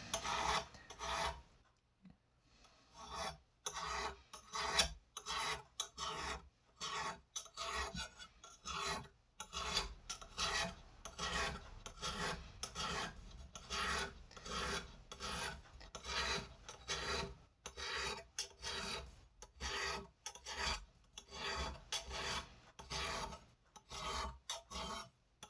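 A tapered hone is drawn repeatedly through the serrations of a knife, a quiet close-up rasping scrape in a steady rhythm of short strokes with brief gaps, heard alone.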